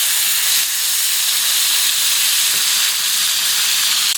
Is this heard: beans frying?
yes